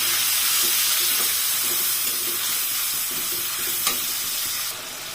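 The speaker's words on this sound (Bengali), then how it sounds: "এবার দিয়ে দেবো পেঁয়াজ আটা আর পেঁয়াজ ভালোভাবে ভেজে নিই" Onions frying in a pan with cinnamon and peppercorns, a dense, steady sizzle close up that eases off slightly near the end, with a brief utensil scrape partway through and no voices.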